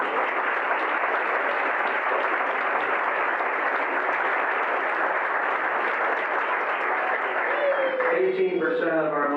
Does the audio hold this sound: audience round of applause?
yes